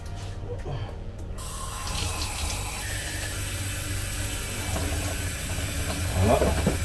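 Cured gravlax salmon rinsed under a running kitchen tap, a steady close rush of water splashing continuously, with a brief clatter near the end and no talk.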